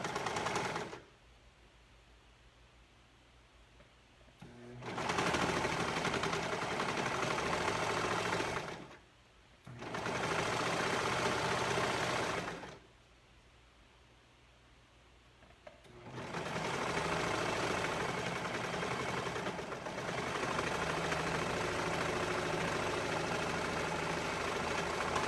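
A sewing machine stitches the side seam of a gathered tank top, its whirring hum running in several bursts of a few seconds each, separated by quiet pauses, close and steady.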